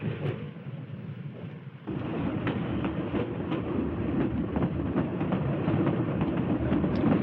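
A Key System train rolls along street-running track and private right-of-way between buildings, heard from the front car as a steady rumble that swells louder after a couple of seconds, with faint rhythmic clicks from the rails.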